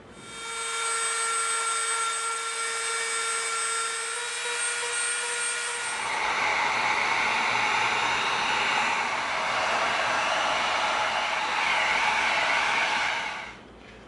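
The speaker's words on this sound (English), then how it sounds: "Now let's come in with our Dremel bit. Let's get off some of this glue residue right here." A Dremel rotary tool strips glue residue from EVA foam on a craft axe. A steady high whine runs alone for about six seconds, then turns into a louder, rougher grinding as the bit meets the foam, and stops near the end.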